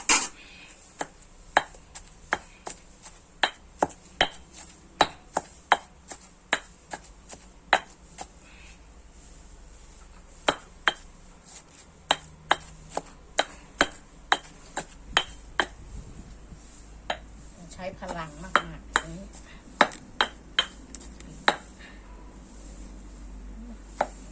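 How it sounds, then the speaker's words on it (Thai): Steady pounding in a stone mortar as Thai curry chili paste is worked together, dozens of sharp, evenly spaced thuds repeating close and clear over roughly twenty seconds with a faint background hum, no talking. "แล้วเราก็ตำต่อเลยนะคะเพื่อน ๆตำให้เข้ากับน้ำพริกของเราที่เรา ตำไว้ตอนแรกนะคะ"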